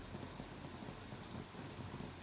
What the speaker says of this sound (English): Can you hear the rain in the back?